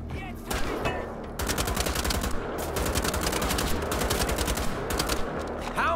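Rapid automatic gunfire rattles in dense bursts during combat in the video game Wolfenstein: The Old Blood, steady and loud for several seconds with no pause.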